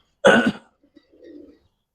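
Pigeons of a military-coloured breed give a brief close coo, a short throaty burst followed by a softer, lower murmur, alone in an otherwise quiet setting.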